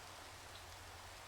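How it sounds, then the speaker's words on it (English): Rain falls in the Minecraft video game as a soft, faint, steady hiss with no other sounds. "signs of a thunderstorm in this rain"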